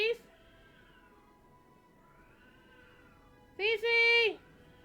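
A grumpy pet cat lets out a short meow at the start, then a longer, louder drawn-out meow near the end over quiet background sound.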